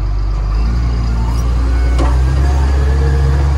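A Komatsu WA420 wheel loader's diesel engine idles with a loud, deep rumble, heard up close, then shifts into forward with a brief hiss and a clunk before the engine tone drops lower.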